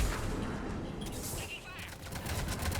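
Gunfire in a firefight against Cerberus troops at a checkpoint in the sci-fi shooter Mass Effect 3, muffled rapid shots mixed with rumbling noise, moderately loud and continuous with a voice shouting over it.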